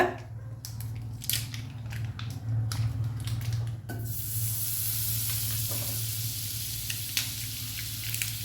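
Butter melts on a hot tawa, a steady bright sizzle that swells after a few seconds of light scraping and clinks, then holds as a continuous close hiss under a low background hum, with no talk.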